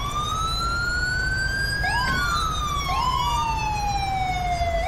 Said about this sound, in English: I think it's my siren.